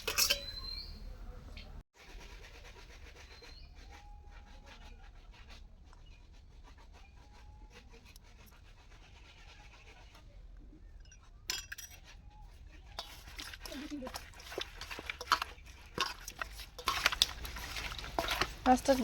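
Fish being washed in a pot, with soft clinks, scrapes and stirring of metal and water sounds continuing throughout at moderate distance, growing busier toward the end, with a voice talking intermittently.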